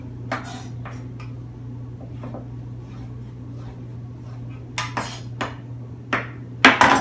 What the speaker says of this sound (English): I'm going to cut this into bite-sized pieces, just cubes.